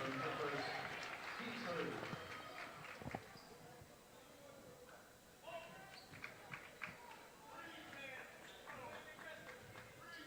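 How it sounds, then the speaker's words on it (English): A crowd section at a high school basketball game applauds, a broad rattling clap that is strongest at the start and fades out, while an announcer talks over it. "And lots of applause from the Indians section."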